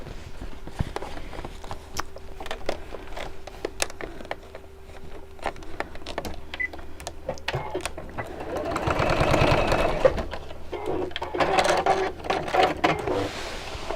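Sewing machine stitching a strap onto a simple fabric bag, a steady mechanical whirr in several bursts that swells louder near the end, with someone talking over it.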